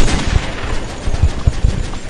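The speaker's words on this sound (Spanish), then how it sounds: "¡Qué tiros tan hermosos los que estamos viendo en esta semifinal!" Gunfire in Call of Duty 4 during a tournament semifinal match, a rapid series of sharp shots in uneven bursts, loud and close, without talk.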